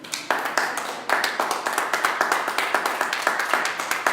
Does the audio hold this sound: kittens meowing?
no